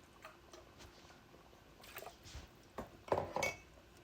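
A spoon stirs beef chili with diced tomatoes and beef stock in a pot, making soft scattered clinks and wet squishes that grow louder toward the end, all quiet and close.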